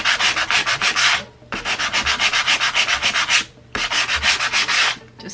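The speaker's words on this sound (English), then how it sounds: "Just sand some of that sticky stuff off the back of it." Hand sanding of sticky residue off the back of a craft tag: three close, loud bursts of quick back-and-forth rasping strokes, separated by short pauses, with no voices.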